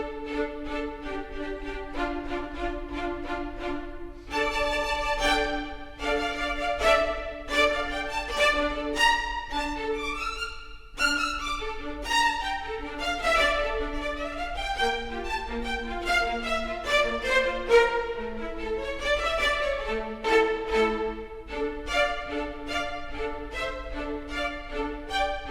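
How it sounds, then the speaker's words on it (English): High orchestral strings play brisk, short detached notes in a busy melodic line, steady and full, with no voices. "So I've loaded up the high strings,"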